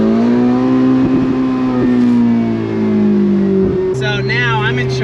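A Ferrari 488 engine hums and rises in a steady low drone from inside the car, pitch climbing gently, then dropping and settling again near the end, with someone talking over it.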